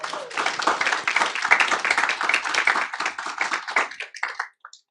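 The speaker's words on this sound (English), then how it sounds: "Let's give actually a big round of applause to all of our district office departments." A school district board meeting audience claps for district office departments, a close, crisp burst of applause that stays strong for several seconds, then thins to a few scattered last claps and stops.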